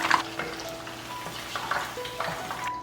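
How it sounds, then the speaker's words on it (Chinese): Garlic chicken legs deep-fry in hot oil with a soft, bubbling sizzle and small crackles, close and moderately loud, no speech over it. "炸到像这样子，鸡皮金黄酥脆"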